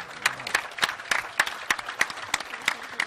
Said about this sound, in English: let's give a round of applause to Stacey